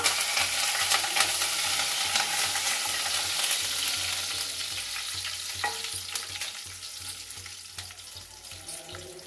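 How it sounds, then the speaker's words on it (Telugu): Dried red chillies and curry leaves hit hot oil for a ridge gourd curry, a loud, close, continuous sizzle and crackle with stirring that eases slightly toward the end. "రెండు ఎండుమిరపకాయలు వేస్తున్నాను కరపాకు వేస్తున్నాను"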